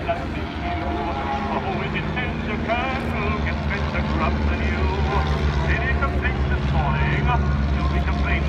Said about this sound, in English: There you have the BE-2 and Sept triplane passes